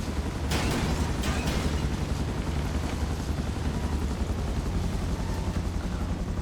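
A video game helicopter's rotor drones steadily and loudly throughout, with a few sharp thuds early on over the constant engine rumble.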